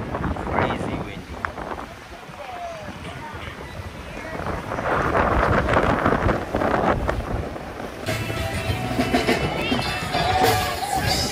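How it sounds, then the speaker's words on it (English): Strong gusts batter the microphone on a beach at Coco Cay, rumbling and roaring in bursts, while people talk and a crowd murmurs in the background. "Crazy windy."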